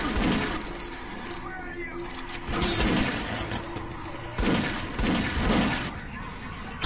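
Gunfire blasts at a ghost in Doom 3 VR, with several loud, rapid bursts of shots and mechanical clatter mixed with game noise and someone talking.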